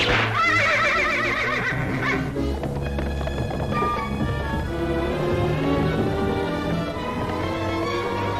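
A horse neighs loudly and close in a 1939 animated film scene, a long shrill whinny with wavering pitch that trails into snorting and clattering amid music and busy background sound.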